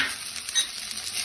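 Food frying in a pan makes a brief, steady hiss of sizzling oil with faint crackling, close and moderately loud, lasting just over a second with no voices.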